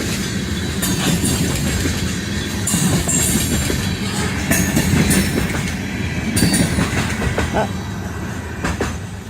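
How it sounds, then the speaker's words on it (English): A train rumbles steadily past nearby, its wheels clacking rhythmically over the rails with occasional metallic squeals. "here comes the train"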